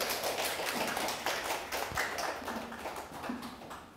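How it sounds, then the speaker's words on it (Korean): Hands clapping from a seated audience at a Korean poetry lecture welcoming the speaker, a steady patter of applause lasting the whole stretch, moderately quiet and fading slightly at the end. "여러분 박수 부탁드립니다."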